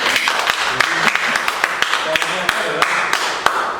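A small group in a university guidance session claps, scattered individual hand claps ringing out at uneven intervals, sharp and fairly close, over a murmur of room noise.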